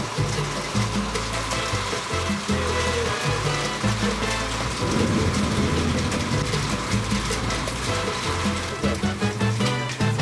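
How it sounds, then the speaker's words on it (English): Heavy rain hisses steadily and loudly, mixed with a low rumbling hum underneath. "this rain is getting super loud"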